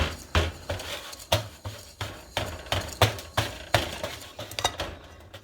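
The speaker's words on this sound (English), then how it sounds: "You want to just keep stirring, stirring, stirring until it all kind of blends together." A thick mixture is stirred in a pot, the utensil knocking against the sides in a steady rhythm of clanks, roughly one or two per second, close and clear with no talking.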